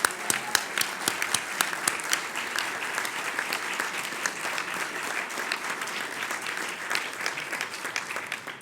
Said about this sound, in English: how about another round of applause for the Governor for being here today?